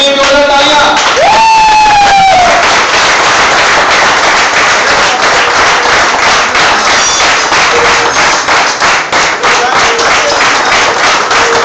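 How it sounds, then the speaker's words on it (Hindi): Loud, energetic audience applause and cheering in a packed hall, dense rapid clapping with a whistle near the start and crowd noise running underneath throughout. "अपने लिए जोरदार तालियां।"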